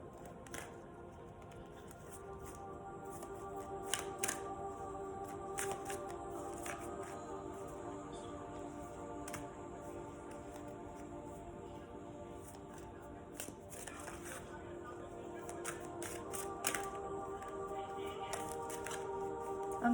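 Oracle cards shuffled by hand: a soft, continuous run of riffling and flicking with scattered sharper snaps, quiet and close, over a faint sustained musical drone in the background.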